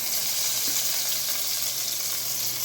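Lamb chops searing in a hot pan, a continuous close hiss and sizzle that stays even from start to finish.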